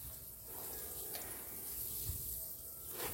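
Water pours steadily from a hose or can while a vegetable garden is watered, a continuous soft splashing and trickling at moderate distance with no speech.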